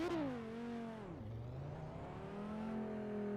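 Race car engine in the Assetto Corsa racing game on the Silverstone circuit, revving loudly with rising and falling pitch as it shifts through gears, a steady close engine drone throughout.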